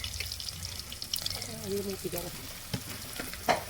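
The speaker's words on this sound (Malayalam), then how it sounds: "ഇളക്കി കൊടുക്കാം." Fish curry frying in a pan while it is stirred, giving a soft continuous sizzle with scattered scraping taps, faint and close, and a brief murmur of voices partway through.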